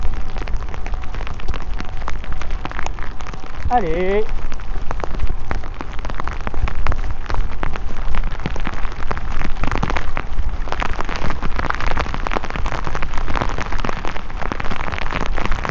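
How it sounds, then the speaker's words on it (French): Heavy rain pours steadily as a dense, loud hiss of drops drumming on a surface at a Breton megalithic gallery grave, with a brief French-speaking voice near the start. "ça commence à pleuvoir bien"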